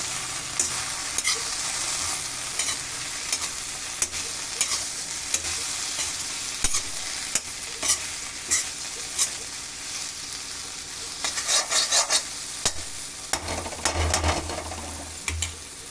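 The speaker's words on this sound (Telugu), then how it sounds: "అది కలుపుకోవాలి ఈ విధంగా" Okra curry being stirred in a pan with coriander powder, salt and chilli, a steady scraping and light sizzling with scattered clinks of the spoon against the pan, close and fairly quiet.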